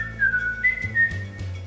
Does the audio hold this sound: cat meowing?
no